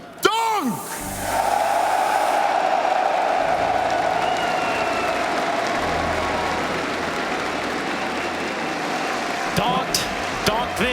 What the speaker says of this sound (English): One last time, Katowice, make some noise for your DHL MVP, Donk!